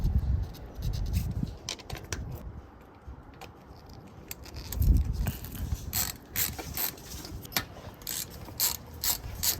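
A ratcheting driver turns screws to mount a Cateye LED third brake light on a Chevy Silverado, giving repeated close clicking bursts with scraping mechanical noise, loudest near the start and midway, and no talking.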